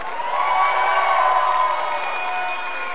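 Crowd at a CD release concert cheering and clapping for a band, sustained whoops and shouts over steady applause, loud and close.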